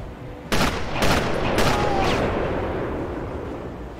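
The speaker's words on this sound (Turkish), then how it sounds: "Şu arkamdan birisi bana sürekli sıkıyor." Gunfire in the Sniper Elite video game, three or four sharp, loud shots in quick succession, each trailing off into a lingering echo over a constant rumbling background.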